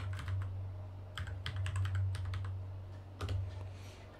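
Close computer keyboard typing in quick bursts of clicks, with a few heavier Enter key presses between them, over a low steady hum and no talking.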